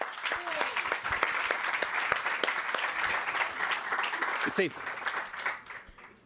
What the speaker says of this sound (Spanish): Un aplauso para Geisel